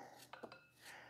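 Knife slicing peeled apple quarters on a cutting board, a few soft close cuts and taps spread over a second, quiet and without talk.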